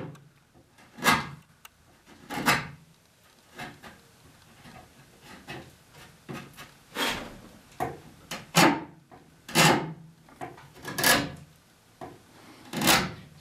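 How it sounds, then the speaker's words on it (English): A draw knife shaves wooden spindles in repeated short slicing strokes, each a crisp rasping scrape about every second and a half, close and fairly quiet, with no talk. "I'm gonna pair these off first right here, and do that with a draw knife"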